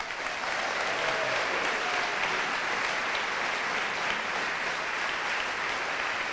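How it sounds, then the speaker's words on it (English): A crowd at a Brighton fans' forum gives a warm round of applause to welcome an evening panel, a dense, even roar of clapping held steady with no speech. "let's give a warm round of applause and a big welcome to our panel this evening"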